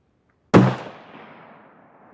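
A single sharp .223 rifle shot firing cast zinc bullets at an outdoor range, loud and close, cracking out of silence and trailing off in a long fading echo.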